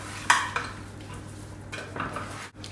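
Roasted tomato and red pepper soup ingredients are stirred together in a pan, a few clinks of utensil on cookware followed by soft scraping and rustling at close range, no talking.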